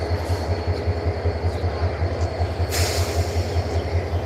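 At Kamalapur railway station a train idles and rolls nearby, with a low pulsing engine throb, a steady rumble and a brief hiss of air partway through.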